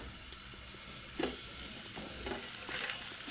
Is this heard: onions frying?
yes